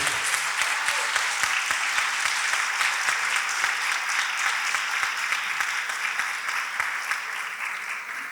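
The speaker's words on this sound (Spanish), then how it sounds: "les pido un aplauso" Sustained audience applause at a labor-law conference on health reform, thanking the organizing team: dense, even clapping fills the whole stretch, steady and fairly loud with no voices on top.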